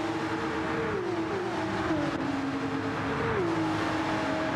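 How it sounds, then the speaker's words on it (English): A pack of racing cars in a racing game at Deep Forest Raceway streams past in a close bunch, engine tones rising and falling as the train of cars goes by, loud and steady throughout. "big train of cars coming through"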